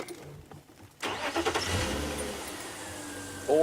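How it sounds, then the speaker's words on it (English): A safari vehicle's engine turns over and settles into a steady running rumble in the Sabi Sand bush, with elephants close by. It is quiet before the start, then loud and continuous, with a brief higher sound near the end. "Always important to let the car run for a few seconds"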